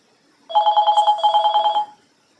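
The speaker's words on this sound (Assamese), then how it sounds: "ফোন এটা আহি গৈছিলে।" A mobile phone rings close by with a fast, evenly pulsed electronic trill that repeats about a dozen times over a second and a half, then stops, with no talk over it.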